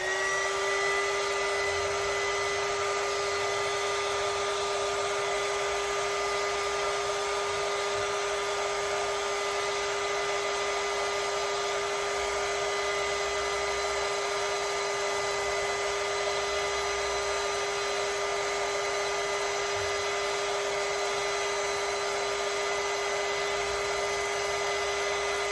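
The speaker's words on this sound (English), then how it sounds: "then I use my heat gun." Heat gun blowing steadily over freshly stirred 1-to-1 epoxy on a Punisher-themed tumbler, a constant whirring hum with a high whine that holds for the whole stretch, close and unbroken.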